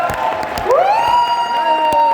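Audience at an MLM training seminar clapping and cheering for a person called up, a loud crowd with a rising whistle-like tone sweeping up and holding.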